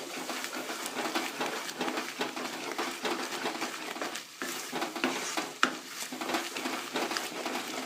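Thick halwa being stirred continuously in a pan, a steady scraping and slushing texture with occasional sharper knocks of the spoon, close and alone without talk.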